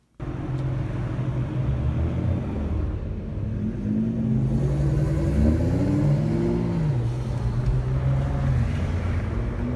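Nissan GT-R engines rumble and rev at a street meetup, a continuous loud low growl with rising and falling pitch sweeps as throttle climbs, several cars close by with no talking.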